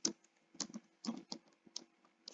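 Fingers tap out a prompt on a computer keyboard in short bursts of quick key clicks separated by brief pauses, close and fairly quiet with no one talking.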